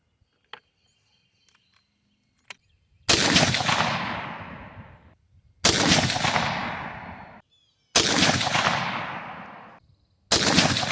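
Four loud rifle shots from a BCA bolt-action upper, each a sharp blast with a long decaying echo, spaced a few seconds apart, with quiet faint clicks before the first.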